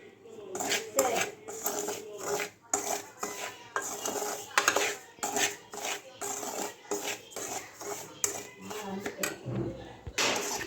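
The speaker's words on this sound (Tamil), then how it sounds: "ரவை ஒரு டம்ளர் அளவுக்கு நல்லா பொன்னிறமாக வறுத்துருங்க." Dry semolina roasting in a pan for upma, with repeated scraping and rasping strokes of a utensil against the metal, loud and continuous with brief pauses between strokes.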